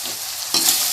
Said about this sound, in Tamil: இப்போ இஞ்சி பூண்டு பேஸ்ட்டை சேர்த்துடலாம்